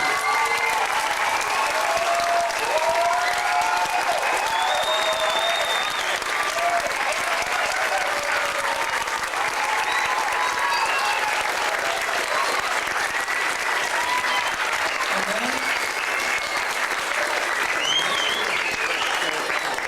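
An audience at a school production claps steadily and loudly for teachers and staff, a continuous wash of applause for about twenty seconds with a few voices and cheers rising through it.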